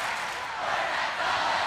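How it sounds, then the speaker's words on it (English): Crowd cheering at a 2002 Class B high school basketball final between Avondale and South Christian, a broad steady roar of fans filling the arena, loud and sustained with no break. "First time they've had a chance to cheer in a while."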